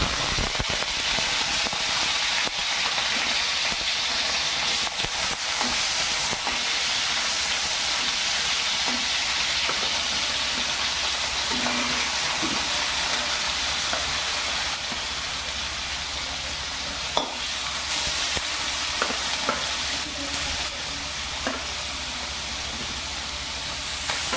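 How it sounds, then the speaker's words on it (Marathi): Paneer cubes fry in hot oil in a pan, giving a continuous close sizzle and hiss with occasional soft pops and small knocks throughout. "ही पनीर याच्यात भाजून घ्यायची आहे आपल्याला"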